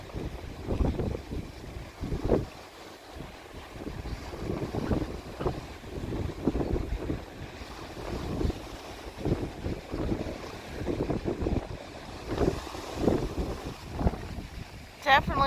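Ocean waves wash and splash over rocky tide pools on a windy coast, a steady surging roar with repeated breaking bursts and gusts of wind buffeting the microphone throughout.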